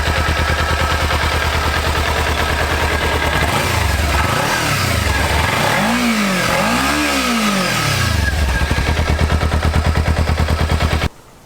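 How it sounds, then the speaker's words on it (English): A 2014 Kawasaki Ninja 300 with stock exhaust idles with a rapid, steady putter and is revved several times in quick bursts, loud and close, before cutting off. "So that's what it sounds like with the stock exhaust."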